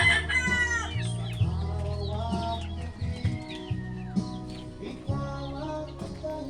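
Chickens cluck and call nearby, with a rooster's crow rising among repeated clucks in a busy farmyard.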